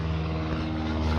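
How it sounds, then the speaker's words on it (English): A propeller airplane passes overhead with a loud, steady droning hum and a layered engine tone that holds constant throughout. "what the heck, airplane?"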